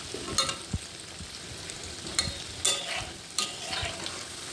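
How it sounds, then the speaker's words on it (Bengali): Mango fritters deep-frying in a wok of oil and being turned over, a steady close sizzle broken by several sharp spatula scrapes and knocks. "গুলগুলিগুলো আরেকবার উল্টে দিচ্ছি।"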